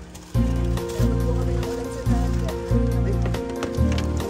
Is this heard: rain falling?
yes